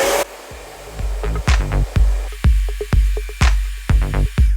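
A hair dryer blows hot air onto a round brush set into short hair at the part line, a steady whir close by, punctuated by repeated sharp clicks and knocks of the brush and dryer handling.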